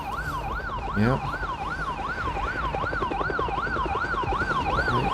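Siren in the zombie survival video game Project Zomboid, a loud, steady, wailing rise-and-fall tone repeating continuously, with a brief spoken word over it.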